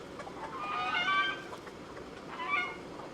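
Roosters on a backyard homestead give harmonic crowing and clucking calls in two bursts, one near the start and another near the end, with geese also stirring in the flock, moderately close and with no talk.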